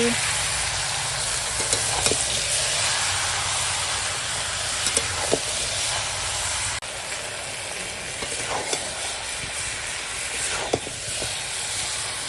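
Mutton frying with spices in a pot over a wood fire, a loud, steady, dense sizzle with occasional clinks and scrapes of stirring.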